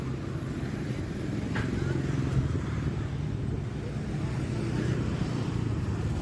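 Cars and motorcycles pass along a busy market street in a culinary market in West Kalimantan, a fairly quiet, continuous wash of engine hum and traffic with some brief higher engine whines.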